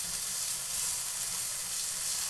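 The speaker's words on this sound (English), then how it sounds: "we're just gonna enjoy the the nice sound of sizzling meat" Meat sizzles and fries in a hot pan, a steady, dense crackling hiss that continues evenly throughout without any talking.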